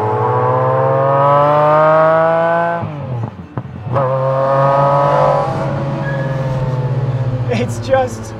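McLaren F1 with a naturally aspirated 6.1-litre 60-degree V12 and individual throttle bodies, revving loud and close with a high sustained howl, a sharp dip as it shifts, then climbing again, with a brief voice near the end.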